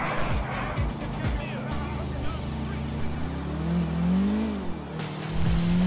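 Futo car engine driving in GTA 4, a steady hum that rises and falls with acceleration, heard under someone talking.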